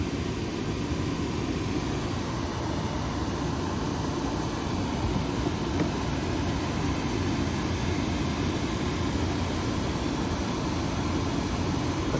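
Vacuum pulling water and a broken-loose clog out of an air conditioner condensate drain line, a loud steady rushing suction roar that holds without change for the whole stretch.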